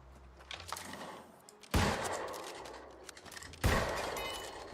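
Two sharp, loud gunshots ring out about two seconds apart in the video game New World, each with a brief echoing tail over a quiet background.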